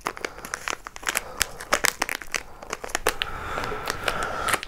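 A crinkly salt chip packet being crumpled and pulled at while someone struggles to tear it open: loud, close crackling and rustling in irregular bursts, with no one speaking.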